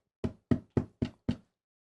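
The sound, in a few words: knocking on a door, sermon sound effect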